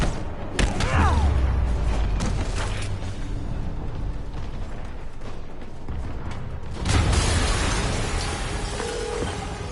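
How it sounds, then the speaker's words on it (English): Booming in-game explosions in Marvel's Spider-Man, with a heavy low rumble at the start and a second loud blast near the end, over a continuous bed of mechanical creaks and debris. "Yuri, an explosion just..."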